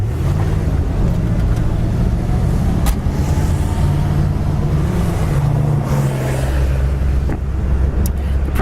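A yellow 1963 Pontiac Bonneville convertible driving with its power steering not working, heard as a loud, continuous low engine drone with shifting tones, mixed with wind and road rush from the open top.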